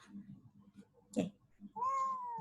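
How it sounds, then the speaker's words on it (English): A cat meows once, a drawn-out tonal call rising near the end, heard close over faint background voices and room noise. "Meow."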